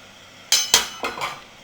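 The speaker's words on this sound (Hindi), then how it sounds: "अब इसको ढाँप देंगे" A lid goes onto a metal cooking pot of chickpea rice pulao with two sharp clanks followed by two lighter metallic taps, close and clear with no talking.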